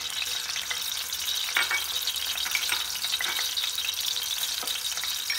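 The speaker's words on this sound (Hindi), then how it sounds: "थोड़ा सा सॉटे करेंगे इन्हें।" Garlic and ginger paste sautéing in a hot pan gives a continuous close sizzle with occasional stirring scrapes, steady and fairly loud, no voices.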